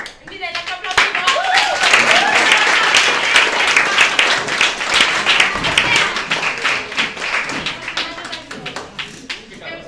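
Audience applause and clapping fill a comedy club during a stand-up monologue, loud and dense from the start, holding steady and then thinning toward the end.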